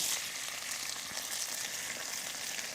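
Chopped onions sizzle in hot sunflower oil in a pan for a beef cutlet, a steady dense crackling hiss that stays even and close throughout, with no voices over it.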